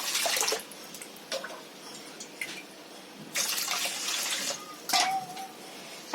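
Water is poured in bursts into a pot of washed rice, several splashing pours separated by quieter pauses, close by and moderately loud.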